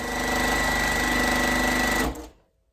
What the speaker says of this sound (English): just pick them up, put them together, and sew. So I can chain piece every single one of them.